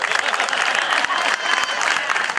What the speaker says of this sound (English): How about a round of applause for our train robbers from Buena Park, Knott's Berry Farm.